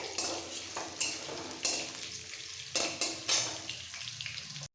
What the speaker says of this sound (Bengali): এবার আলুগুলো একটু লাল করে ভেজে নিতে হবে